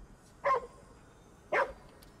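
A dog in the game Ghostwire: Tokyo gives two sharp, separate barks about a second apart, mid-distance and fairly loud against a quiet background.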